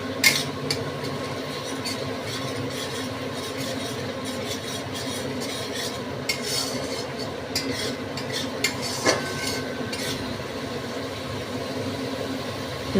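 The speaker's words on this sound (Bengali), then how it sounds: "এবার একটু নাড়ানাড়ি করতে হবে ভালো করে।" Masala for a cream malai paneer kofta fries in oil in a pan and is stirred with a spoon, giving a soft steady sizzle with scattered scrapes and clinks. No voices are heard.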